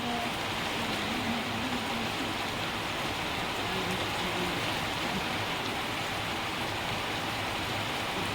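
Steady, even rain falls continuously, a dense hiss with no breaks or voices.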